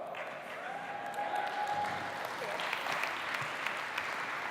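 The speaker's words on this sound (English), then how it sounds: "Keep applauding him, he's got a long way to come." A large conference audience at VOICE Summit 2018 claps continuously, dense and steady applause that swells slightly midway and keeps going, with a faint voice briefly audible over it.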